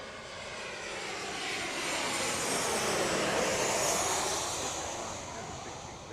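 United Boeing 737-700 jet arriving from Dallas/Fort Worth at Chicago O'Hare, its engine roar swelling to a peak midway and then easing off, with a hissing high whine sweeping across, no talking.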